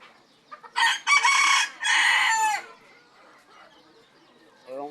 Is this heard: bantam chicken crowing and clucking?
yes